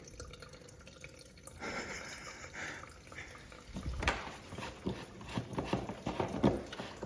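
Fluid draining from a 2001 Honda TRX250EX ATV engine, trickling and dripping steadily onto the ground, faint and close, with irregular splashes and small knocks.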